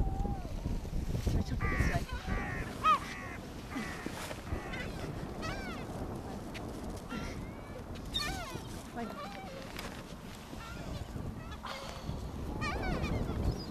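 Seagulls call repeatedly at a sandy beach, sharp squawking cries rising and falling at several distances over a constant rush of wind and surf.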